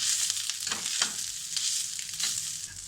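Fresh grated coconut roasting in a pan for a Malvani clam curry gives a steady dry sizzle and crackle, with a few soft scrapes of stirring, close and continuous.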